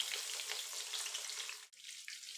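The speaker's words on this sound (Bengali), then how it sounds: "মাছ ভাজা তেলে আমি দিয়ে দেব পেঁয়াজ কুচি।" Chopped onion sizzling in oil left from frying fish, a loud, close, dense hiss that runs steadily and drops briefly before carrying on at a slightly lower level.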